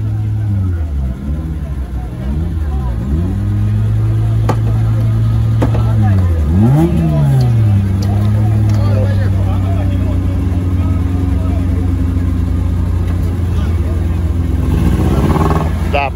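An off-road Niva's engine runs roughly during a trophy sprint, a loud, close, continuous drone whose pitch dips and rises unevenly, with people talking over it.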